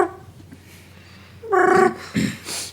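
A dog whimpers in a dark room with a low growl beneath it, starting with faint rumbling and then two short, louder whining bursts nearby.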